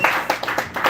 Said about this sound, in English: Clap it up for Charity Gregory.